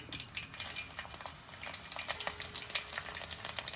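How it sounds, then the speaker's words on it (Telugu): Mustard seeds and cumin crackle in hot oil with rapid, irregular pops over a steady sizzle, close and fairly quiet with no voices. "మన ఆవాలు చిట్పట్టమంటున్నాయి"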